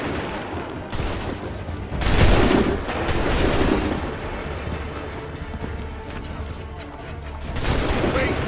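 Musket volleys in the video game Assassin's Creed III, ragged bursts of gunfire crackling over a dense battle din, with shouted commands mixed in.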